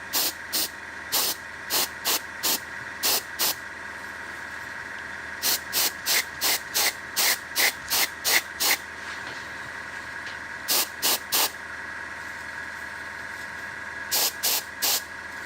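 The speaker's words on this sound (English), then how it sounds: "it's just making lots of thin layers with white paint" Short repeated bursts of airbrush spraying thin layers of white paint, grouped in clusters of quick hisses with brief gaps, close and fairly loud over a steady background hum.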